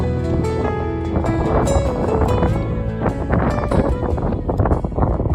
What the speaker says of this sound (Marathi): वारा एवढा सुटलेला आहे ना असे माणसं सुद्धा उडतील असं वाटतंय